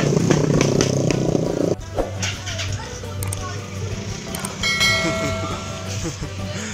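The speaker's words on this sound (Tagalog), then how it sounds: "dito kasi sa bayan pinagbabawal dito yung maingay ng motor" Loud motorcycle engine roaring and revving during a New Year street celebration, with voices and crowd noise mixed in around it.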